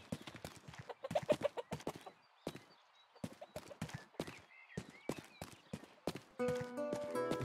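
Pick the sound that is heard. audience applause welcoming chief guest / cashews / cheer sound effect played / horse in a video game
horse in a video game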